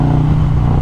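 A 2020 Harley-Davidson Road Glide Special with a 128-inch big bore kit revs hard, a loud, close, deep engine roar that stays steady through a brief burst, with no voices.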